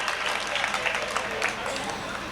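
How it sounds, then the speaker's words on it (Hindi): An audience at a Hindi comedy poetry gathering claps with both hands raised, a busy spread of applause under a speaking voice. "खुल के पूरा दोनों हाथ उठाकर तालियां बजाओ"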